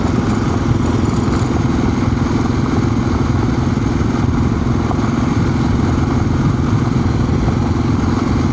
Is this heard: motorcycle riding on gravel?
yes